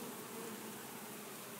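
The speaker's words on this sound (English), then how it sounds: "we still have plenty of bees" A dense, steady buzzing of many honey bees inside a church wall, close and continuous, with no voices over it.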